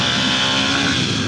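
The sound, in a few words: Harley motorcycle engine revving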